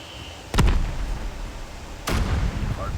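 Two loud gunshots boom a couple of seconds apart in the mobile shooter Call of Duty Mobile, each a sharp burst that decays into a rumbling tail.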